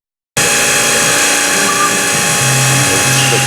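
A drill bores small 2 mm holes, giving a loud, continuous high-pitched whir that starts abruptly after a brief silence and holds steady throughout.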